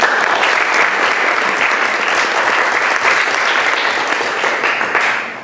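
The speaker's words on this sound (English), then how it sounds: "Let's give them a nice round of applause." A community forum audience gives the panelists a loud, sustained round of applause, dense clapping that holds steady before tapering off at the end.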